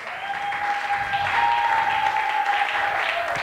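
Church congregation applauding the Lord: continuous, even clapping from a crowd, steady and moderately loud for a few seconds with little else over it.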